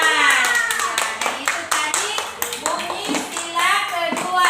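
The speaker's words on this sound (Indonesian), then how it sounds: "tepuk tangan dulu" Schoolchildren in a classroom clap their hands for a classmate in sharp, rhythmic bursts while a teacher talks and children's voices mix in.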